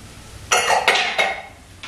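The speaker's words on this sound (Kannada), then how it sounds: "ಇವಾಗ ನಾನು ಕುಕ್ಕರ್ ತಗೊಳ್ತಾ ಇದ್ದೀನಿ." A pressure cooker is lifted and handled in a home kitchen, giving a few loud metallic clanks and knocks close by over about a second, then a brief faint clink.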